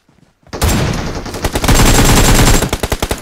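Gunfire from PUBG Mobile breaks out after a brief near-silence as loud, dense automatic bursts close by, and the rapid shots continue to the end.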